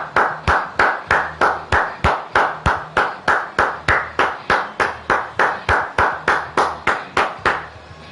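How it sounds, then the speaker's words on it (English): Crowd clapping for women wrestlers at a wrestling show, in a steady, evenly spaced rhythm of loud claps that reads like unison applause, no voices over it. "Give these women a round of applause."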